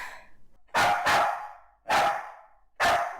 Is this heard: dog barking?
yes